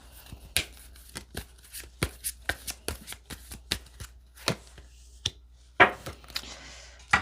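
Tarot cards being shuffled and tapped close by in a quiet room, a series of sharp flicks and slaps followed by a longer riffle near the end.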